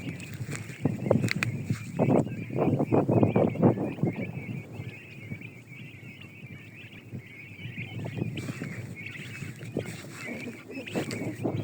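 Loud, busy honking and gobbling from a flock of about 500 turkeys on a farm, close by, with a constant background hiss.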